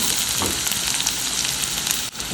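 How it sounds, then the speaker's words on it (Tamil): Small shallots, finely chopped, sautéing in hot oil for a Tamil-style prawn thokku, giving a steady, dense sizzle close by with no talking, broken by a brief dip near the end. "இப்போ ஆனியனை நல்லா வதக்கி விட்டுப்போம்."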